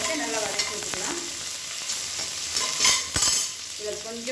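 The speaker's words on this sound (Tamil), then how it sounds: "சின்ன வெங்காயத்தை நல்லா வதக்கி வச்சுக்கலாம்." Small shallots sauté in hot ghee in a cooker: a loud, continuous sizzle broken by the scrape and clack of a spoon stirring, with a couple of sharper stirring knocks near the end.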